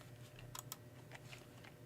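Typing on a wireless computer keyboard, a handful of quiet key clicks in an irregular rhythm against a low steady hum.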